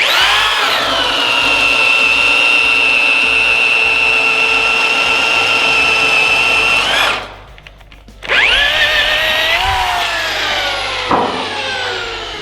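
A power drill whines steadily as it bores through a wooden post, stops briefly, then restarts with a rising whir before grinding on again.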